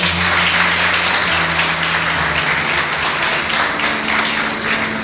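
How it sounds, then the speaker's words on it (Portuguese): A church congregation applauds during a worship service, a loud, continuous wash of clapping lasting several seconds over a faint low hum. "Vamos aplaudir a palavra de Deus"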